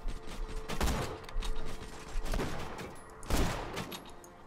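Gunfire rings out in the shooter game Borderlands 2, with dense bursts of rapid shots and clanking mechanical noises swelling and fading over a steady background din.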